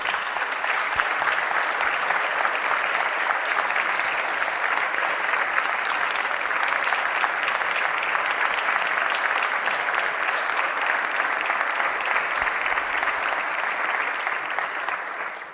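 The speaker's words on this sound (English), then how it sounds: "let's give her a round of applause" Lawmakers and guests applaud a staffer from the clerk's office during a legislative speech, a full, steady round of many hands clapping that holds evenly for about fifteen seconds before tapering slightly.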